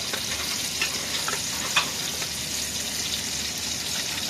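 Garlic fries with caramelized onion in a pan as part of an Iraqi beef roast, a steady close sizzle that stays even throughout with a few small pops and crackles.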